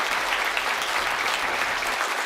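Steady applause from an audience fills the space, dense clapping at an even level with no voices standing out.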